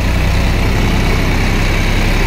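A Massey 245 DI tractor diesel engine idles loudly and close by, a steady low throbbing rumble with no voices over it.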